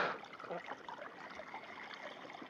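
Warm water is poured out for chickens on a freezing day, a faint, steady trickle and splash that continues quietly throughout.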